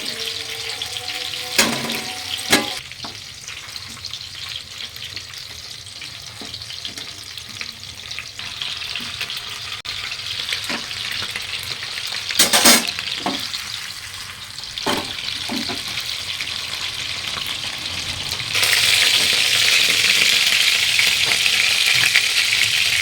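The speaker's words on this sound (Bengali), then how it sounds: "এখন ভেজে নিচ্ছে এগুলো।" Seekh kebabs sizzle steadily in a hot oiled pan, close and constant, broken by occasional sharp clinks and scrapes of turning, with the hiss growing louder near the end.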